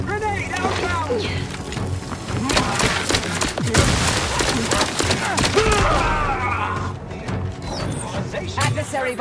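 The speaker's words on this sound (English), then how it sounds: "Grenade outbound!" Grenade blast inside the Outer Worlds 2 game, sounding as dense mechanical clatter and booming bursts set in a busy combat mix with game voices talking over it.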